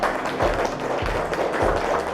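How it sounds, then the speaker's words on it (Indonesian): A classroom of students applauding a classmate, a brisk, fairly loud patter of overlapping claps with a few heavier thumps mixed in. "Tepuk tangan semuanya untuk Radit."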